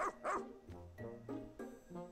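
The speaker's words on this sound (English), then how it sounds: "And the dog's name is Moss, by the way." A cartoonish dog barks in the Pikmin 4 video game, giving several short, bright barks in an irregular rhythm over the game's background music.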